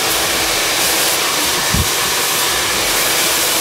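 A hair dryer blasts a continuous loud hiss while wavy hair is blow-dried straight with a brush, a steady close rush of air with one brief low thump partway through.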